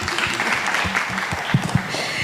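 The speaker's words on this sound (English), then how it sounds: "maybe another clap and appreciation" Audience applause at the Nairobi Startup Summit at USIU Africa, a steady wash of clapping from a large crowd with a few louder individual claps near the end and faint voices underneath.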